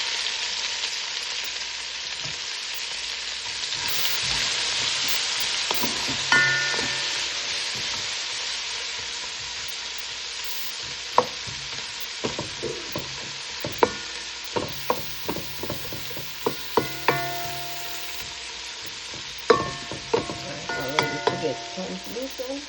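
Onion frying in a pot for Jamaican gungo rice, a steady broad sizzle running throughout, with a growing series of sharp clinks and scrapes of a utensil stirring against the pot in the second half.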